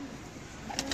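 Pigeons coo softly at a distance, a couple of brief calls near the end over faint background hum.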